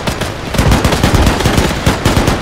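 MG 42 machine gun firing in Arma 3, a loud, close, sustained rapid burst of shots with a fast, even rhythm, with no talk over it.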